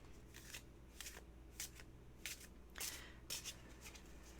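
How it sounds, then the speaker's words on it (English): Oracle cards are cut and shuffled by hand in quick bursts: about eight short crisp riffling rustles at irregular intervals, close and quiet, with soft background hum between them. "3 cut shuffles and then another cut."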